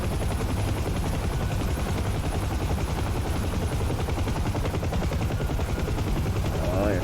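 A helicopter in a VR flight simulator game roars continuously, with a loud, dense rotor chop pulsing rapidly and evenly for the whole stretch and no talk over it.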